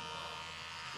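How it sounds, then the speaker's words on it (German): An electric razor shaving a head buzzes steadily and continuously, a fairly quiet, constant hum with no breaks and no voices over it. "Dieser Rasierergeräusch, oder?"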